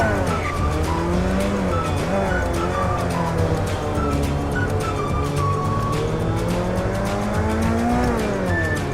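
A game car races an opponent in Free Fire, its engine droning loud and steady throughout with rising and falling pitch as it accelerates, mixed with tire squeal and skidding.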